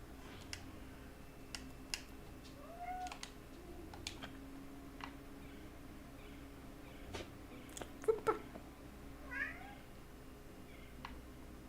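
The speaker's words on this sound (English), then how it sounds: "meowing." A cat meowing in the Dreamfall Chapters video game, several short, faint, rising meows spread over a quiet scene, along with scattered light clicks and ticks resembling typing.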